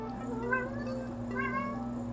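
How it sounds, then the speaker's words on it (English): A cat named Sorbet gives a couple of short, faint meows over a steady low hum. "that would be Sorbet meowing"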